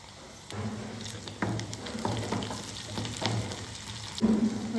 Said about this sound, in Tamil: வெங்காயம் போட்டு தாளிச்சாச்சு